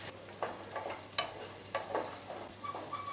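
Sweet potato pieces fry and get stirred in a pan while cooking a fasting pulao, with a low steady sizzle broken by several sharp scrapes of the spoon. Close, moderately quiet, no voices.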